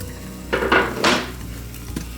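A spoon scrapes and clatters in a pan of truffle mushroom risotto, giving a couple of short stirring scrapes with a faint knock after them, close and fairly loud.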